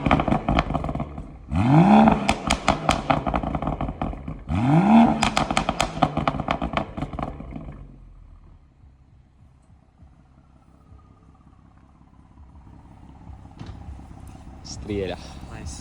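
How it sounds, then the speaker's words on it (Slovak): Modified car engine revved hard twice while stationary, each rise climbing to a loud roar and dropping back, then settling to a low idle with faint crackle near the end. "Ideme soundcheckovať auto."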